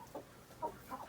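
Hens and roosters in a backyard coop on a hot day, with a broody hen sitting on eggs, give three soft, separate clucks spread evenly across a faint, quiet stretch.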